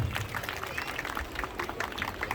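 Audience clapping at a school building inauguration ceremony: dense, sustained applause from a crowd, steady and fairly close throughout, with some murmuring mixed in.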